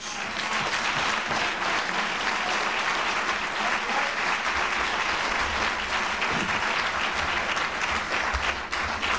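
Sustained applause from a large crowd, dense steady clapping that stays loud throughout without any pause.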